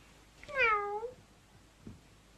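A single cat gives one clear, falling meow, close by and fairly quiet, followed by a faint soft thump in otherwise quiet surroundings.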